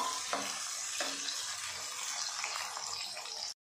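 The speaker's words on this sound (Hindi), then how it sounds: "अब इसके अंदर हम प्याज ऐड करेंगे और इसको हम 2 मिनट तक मिडल आँच में भूनेंगे" Onions frying in oil with cumin in a kadhai over medium heat, a dense, steady hiss of sizzling with a couple of faint stirring knocks, close, ending abruptly, no voices.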